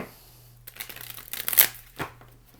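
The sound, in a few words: shuffling tarot cards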